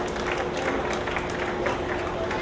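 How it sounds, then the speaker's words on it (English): A crowd at an FFA open livestock show claps in dense, continuous applause for market heifer exhibitors, with a voice faintly audible underneath. "give these market heifer exhibitors a big round of applause"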